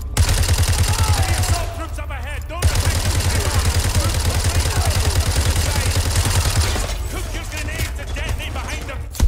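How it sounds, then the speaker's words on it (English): Loud, rapid automatic gunfire in Modern Warfare 2 Remastered crackles in long sustained bursts with a brief pause, close and dominant, while a player talks over it. "Who is shooting me?"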